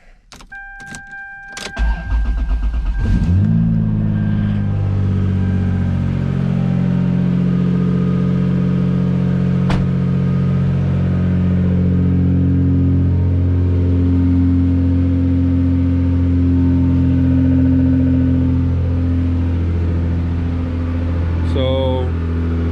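A Lexus SC300 engine with long-tube headers cranks up on a cold start after a few clicks, then rumbles loudly and steadily close by, with a rough, raspy note from an exhaust leak.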